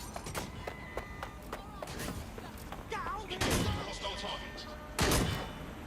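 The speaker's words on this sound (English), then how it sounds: "Gunfire!" Gunfire bursts in Watch Dogs Legion during a fight around a van, with rapid sharp cracks and two louder blasts, loud and close, while voices talk over the action.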